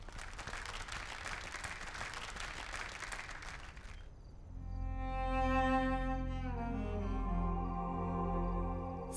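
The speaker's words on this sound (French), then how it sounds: "Un tonnerre d'applaudissements pour Sonakshi Bosé et Ritik Sen." Applause for an engaged couple at a celebration, a crowd clapping for about four seconds before it gives way to sustained tonal music.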